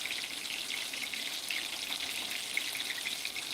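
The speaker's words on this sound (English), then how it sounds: "Just frying them up just for a late night snack." Gyoza dumplings sizzling in a pan, a steady, fairly quiet hiss and crackle with small pops and no talking.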